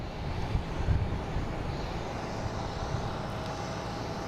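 An airplane at Boston Logan International Airport rumbles steadily in the distance, a broad continuous engine roar mixed with wind noise on the microphone, with no talking.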